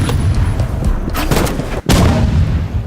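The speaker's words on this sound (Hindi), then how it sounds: "उसने हमें रॉकेट लॉन्चर चला दिया" Explosive bursts and booms from a rocket launcher fired in the Roblox video game, loud and close, with a sharp cutoff near the end followed by a renewed blast.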